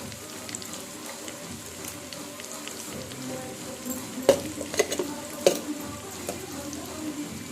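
Chicken fry with chili powder being stirred in a pan, a low steady sizzle with a few sharper utensil clicks and scrapes near the end, fairly quiet and close.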